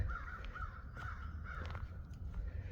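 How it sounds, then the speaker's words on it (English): A crow caws in a forest on a park trail, giving several short, hoarse calls in a loose series. The calls sound fairly distant over quiet woodland ambience. "So that sounds like a crow."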